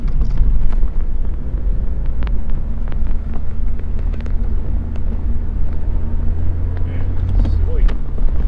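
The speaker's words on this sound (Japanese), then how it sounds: "ちょっと踏み込んだだけでぐっとこう加速しますね。" A Honda Civic Type R FD2 with an aftermarket muffler and limited-slip differential accelerates, its engine giving a steady low drone and rumble from inside the cabin while someone talks throughout.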